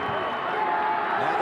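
The crowd at a 1991 rugby league playoff between Western Suburbs and Canterbury calls out in a steady distant roar, with a commentator talking over it.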